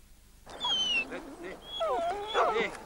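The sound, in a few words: dog whimpering and barking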